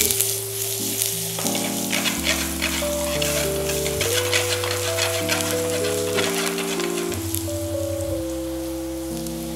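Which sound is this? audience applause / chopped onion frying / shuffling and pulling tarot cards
chopped onion frying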